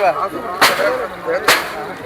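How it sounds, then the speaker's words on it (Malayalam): Two sharp, loud bangs about a second apart, fireworks exploding nearby at the Athirampuzha church feast fireworks display in Kerala, over a steady background of crowd noise. "നല്ല സൂപ്പർ വെടിക്കെട്ടാണ് നടന്നുകൊണ്ടിരിക്കുന്നത്"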